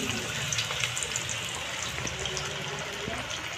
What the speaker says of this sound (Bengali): এর মধ্যে আমি আলুর টুকরোগুলো দিয়ে দেবো।